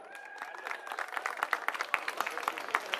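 Loud applause from a crowd at a ceremony honouring a guest, dense clapping building steadily and holding over a tonal hum.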